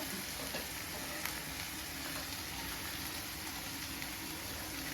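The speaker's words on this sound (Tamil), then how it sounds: "வெங்காயம் வதக்கணும்" Onions sauté in a pan over a high flame for vegetable cutlets, giving a dense, even, close sizzle that holds steady throughout with only a faint tap or two.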